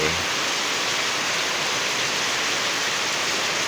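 Heavy morning rain pours down at a rural home in Chai Nat around dawn, a dense, steady hiss and roar that stays even and close throughout, with no voices.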